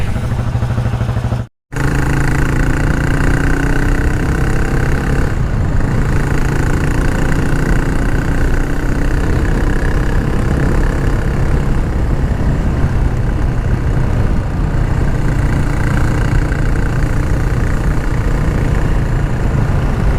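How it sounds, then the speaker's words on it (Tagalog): A Cafe400 motorcycle with a modified exhaust revs high, a loud, steady engine roar that holds for the whole stretch with one brief cut near the start. "So yun po yung kanyang tunog kapag high rev."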